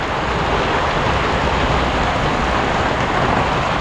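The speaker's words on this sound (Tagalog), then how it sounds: "Ay, grabe talagang ulan na ito." Heavy rain pours down steadily and loudly, a dense, continuous roar with no breaks, alone without voices.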